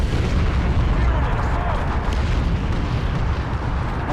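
Heavy explosions from a bombing run in a video game rumble as one continuous, dense roar, with deep low booms throughout and speech faintly underneath.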